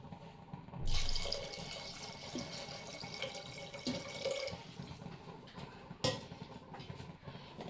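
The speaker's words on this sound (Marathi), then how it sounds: "आता याच्यामध्ये आपण आवश्यकतेनुसार थोडंसं पाणी टाकूया पहिलं।" Water pours steadily into a pot of field-bean (pavta) vegetable curry, starting with a rush and running as a continuous splashing stream with a brief louder splash near the end, close by, with no talking.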